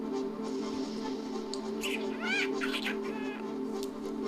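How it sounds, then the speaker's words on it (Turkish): A pet bird chirps and calls in a string of short, bright, warbling notes against a steady background hum, fairly close and moderately loud. "Kuşum hep benimle muhabbet etmek istiyor."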